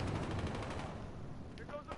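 Rapid bursts of gunfire from the video game Battlefield: Hardline sound in a quick rattling volley, fairly faint and compressed.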